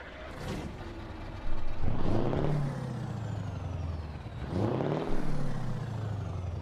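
A modded truck engine in Euro Truck Simulator 2, heard alone and up close, swelling through two rising revs with a hiss of air brakes between them over a steady low drone.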